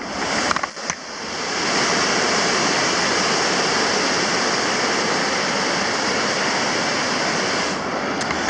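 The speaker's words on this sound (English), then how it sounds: "that water's flowing a bit too fast for me to get across my bike" Fast-flowing river water rushes beneath a bridge on a cycling route between Cajamarca and Salento, Colombia, a loud, dense, unbroken roar with a brief knock near the start.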